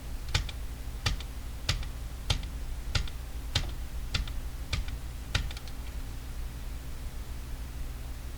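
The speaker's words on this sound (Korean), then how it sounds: "컨트롤 키 누르고 D 10번 더 할게요" Computer keys pressed in a steady run of about nine sharp, evenly spaced clicks, close and clear over a low steady hum, with the Ctrl and D keys tapped repeatedly while duplicating layers in After Effects.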